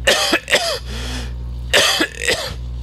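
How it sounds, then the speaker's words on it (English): A man coughs close to the microphone, two pairs of harsh coughs separated by a short pause, over a low steady hum. "I gotta cough again."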